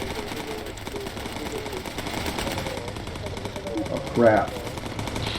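Aircraft machine gun fire in the bomber video game Bomber Crew, fast rattling bursts running throughout at moderate distance, under someone talking, with a brief louder burst near the end.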